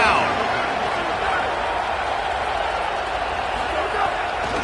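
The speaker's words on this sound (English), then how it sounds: "The Red Raider crowd rising to the occasion to help its defense on 3rd down." A Red Raider football stadium crowd at a Nebraska vs Texas Tech game keeps up a sustained, roaring wall of noise on third down. The noise stays dense and even throughout, with a commentator's voice blended under it.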